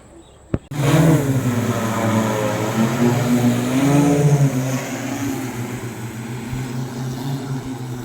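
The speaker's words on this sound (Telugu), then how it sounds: "ఇక్కడ డ్రోన్ తోటి చెత్త మందు అయితే స్ప్రే చేస్తున్నారు" After a sharp click, a loud droning motor whine starts and holds steady, a buzzing hum of an agricultural drone spraying pesticide nearby.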